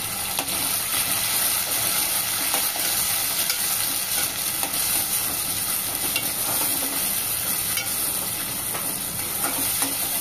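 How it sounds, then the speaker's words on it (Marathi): A chopped tomato and half an onion sauté in a pan, producing a steady, loud bubbling sizzle with soft stirring scrapes throughout and no one speaking. "तर 2 मिनिटांसाठी हा टोमॅटो आपण परतून घेऊया"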